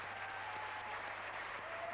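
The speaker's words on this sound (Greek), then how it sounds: "Τη χειροκροτεί βέβαια η αίθουσα." Hall audience at the Eurovision Song Contest 1995 applauds the first Irish winner, with steady dense clapping at moderate distance, continuous for two seconds with a faint background tone.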